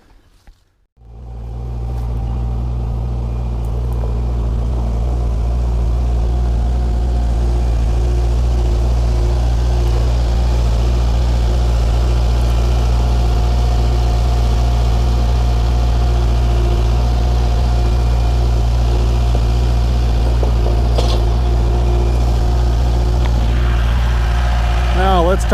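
A Kubota L4701 tractor engine idles steadily at close range, a deep constant diesel rumble with a faint whine, holding unchanged throughout.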